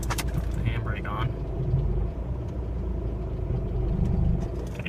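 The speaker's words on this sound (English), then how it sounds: "It seems to make a lot of noise when it first engages, like when it's slipping a lot." A car clutch shudders and slips as the car pulls away, a continuous low rumbling drone with uneven juddering, steady and close throughout.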